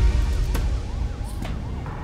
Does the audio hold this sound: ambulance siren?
yes